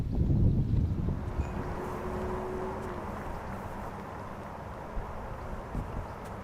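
Wind buffets the microphone on a very exposed stretch of a disc golf course during a women's pro tournament round, a steady broadband rush that is strongest at the start and then settles into a constant roar with a few gusty bumps.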